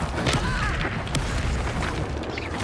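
A fiery Confringo explosion spell bursts in Hogwarts Legacy, dense booming and crashing blasts filling a short stretch of loud combat noise with no voices.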